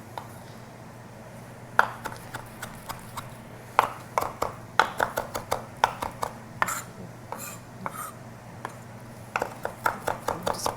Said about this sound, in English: we're just gonna do some big chops.